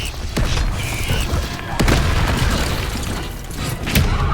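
Bombarda spell explosions from the video game Hogwarts Legacy, loud booming blasts with sharp bursts, roughly three impacts over a dense rumbling combat backdrop.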